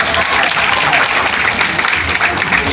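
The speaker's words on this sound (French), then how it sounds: "tous les participants acclamaient très fort pour le Togo" A large crowd in Kuala Lumpur cheers loudly for Togo while watching a giant screen in the city, producing dense, continuous applause and roaring that stays steady and close throughout.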